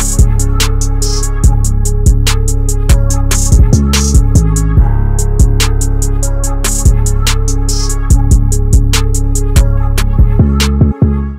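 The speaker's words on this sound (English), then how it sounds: "So next I went to my drum kit again, got this snare right here." A programmed snare drum pattern with bounce plays in an FL Studio trap beat, crisp repeated hits and rolls over a deep bass and hi-hats, loud and continuous with no voice.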